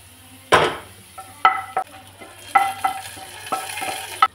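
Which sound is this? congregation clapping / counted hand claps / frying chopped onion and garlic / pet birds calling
frying chopped onion and garlic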